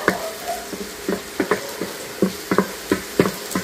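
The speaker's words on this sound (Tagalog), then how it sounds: "gisa tayo ng bawang" Garlic sautés in a pan with a low background sizzle, broken by a series of sharp, irregular stirring scrapes and clinks, close by with no talking.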